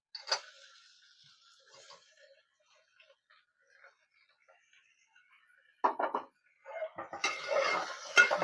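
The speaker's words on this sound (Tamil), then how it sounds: "இப்போ நம்ம தக்காளி போட்டுக்கலாம்" Two finely chopped tomatoes go into a cooker over sautéed onions for mutton gravy: sparse metallic clinks and scrapes, faint and near, with busier clattering stirring bursts toward the end.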